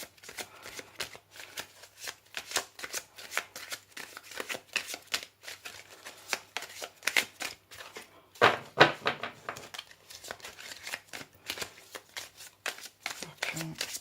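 An Oracle du Soleil deck of cards is shuffled by hand in a steady run of soft, rapid riffling ticks, with one louder flutter of cards midway through.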